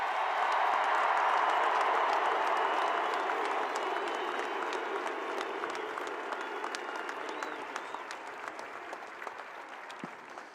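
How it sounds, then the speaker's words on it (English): A stadium crowd applauds a back-to-back national championship football team at Dooley Field, Sanford Stadium, during the Georgia celebration; dense, steady clapping from many hands that slowly fades over about ten seconds, with no clear voices. "applause"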